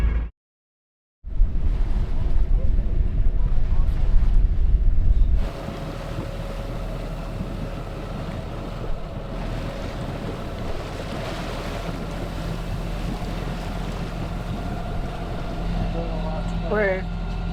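Steady wind rushing across a sailboat heading almost into the wind on a remote Scottish sea loch in the Western Isles, with low broadband roar and rumble throughout, louder gusting buffets in the first few seconds, then a constant blowing hiss.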